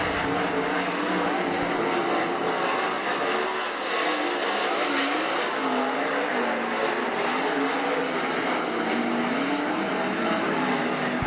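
Several 410 sprint cars race at Attica Raceway Park, a continuous loud roar of engines with rising and falling pitch as they circle the track, dense and unbroken throughout.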